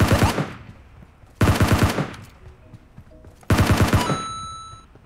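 Three loud bursts of rapid automatic gunfire in PUBG Mobile, each lasting under a second and separated by quieter gaps with faint game tones, close and punchy.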